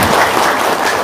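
Brief burst of loud, close clapping from a crowd at an Islamic religious gathering, dense and continuous for about a second.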